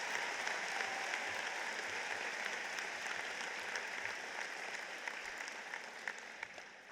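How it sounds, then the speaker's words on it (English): An audience at the Marion Harding High School commencement gives a sustained round of applause for Hall of Fame inductees, a dense, distant-sounding wash of many hands clapping at a steady level. "another round of applause for our Hall of Fame inductees"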